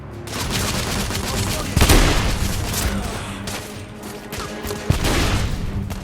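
Gunfire in the video game The Order: 1886, a loud sustained wash of shots and battle noise with sharper blasts near two and five seconds.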